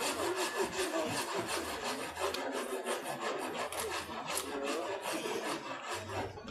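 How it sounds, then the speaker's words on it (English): A handmade wooden cricket bat is filed by hand, with rapid rough rasping strokes in a continuous close rhythm and no speech. "I'll do some filing."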